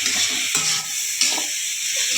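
Chopped tomatoes go into a hot pan of spiced oil for Kumbakonam gosthu and sizzle loudly while a utensil stirs them, with scraping strokes over the steady hiss.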